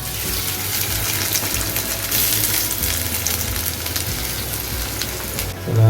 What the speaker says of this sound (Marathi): फोडणीला आपण हा कांदा टाकणार आहे कांदा आणि हे उरलेले आंबे सगळे टाकणार